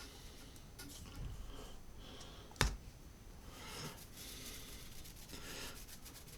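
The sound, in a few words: finger rubbing ink into a drypoint printmaking plate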